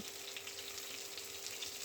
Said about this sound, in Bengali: মাছগুলো দু পিঠ ভেজে নিব।